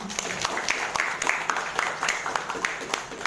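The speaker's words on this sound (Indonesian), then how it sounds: "Kita beri aplaus dulu." An audience applauds at a launch event for a government religious affairs program in Sinjai, Indonesia, with steady clapping filling the room throughout.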